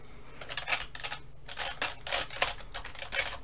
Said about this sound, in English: Sitting at a fucking keyboard clacking away like a fucking like an inbred moron.